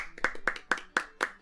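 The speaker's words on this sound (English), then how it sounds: "Honestly, yeah, just take a second and just give them a round of applause." A few hands clap in a steady rhythm, about five sharp claps spaced roughly a quarter second apart, close and fairly quiet, with no other sound around them.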